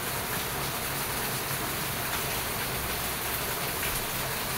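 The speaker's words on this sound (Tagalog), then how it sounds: "ang lakas po ng ulan" Heavy rain pours steadily, a dense, unbroken hiss of water without pauses or voices.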